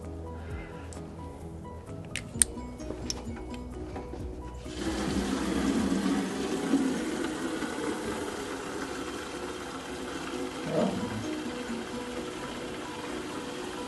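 Garden containers fill with water from a running hose or tap, a broad steady gush that starts abruptly after some light clatter and keeps flowing close by, with a slight rise near the end.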